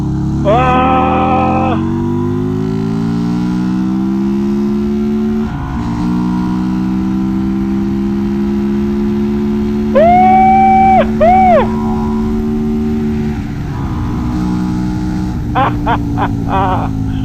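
A Harley-Davidson V-Rod motorcycle engine revs repeatedly up close, with loud rising and falling throttle blips over a steady idle and a few sharp bursts near the end.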